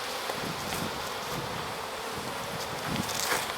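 Honeybees in an opened split hive buzz in a dense, continuous drone at close range, a steady swarm hum with no talking over it.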